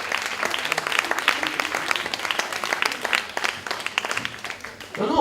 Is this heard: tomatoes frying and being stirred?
no